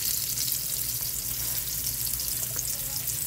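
Pizza burger patties frying in a pan over medium-high heat, giving a steady, dense sizzle that holds at an even level throughout with no talking.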